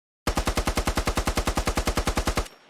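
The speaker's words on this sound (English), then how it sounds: "the new G3 sound, which I think is a huge improvement to what it was in the past" Sustained automatic fire from a G3 rifle in the video game Squad, about twenty loud, evenly spaced shots in a rapid steady rhythm, heard alone and ending in a short decaying tail.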